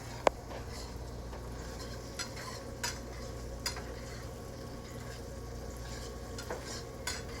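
Shrimp sautéing in unsalted butter in a pan: a soft steady sizzle with occasional light clicks and scrapes of a utensil stirring, faint and close.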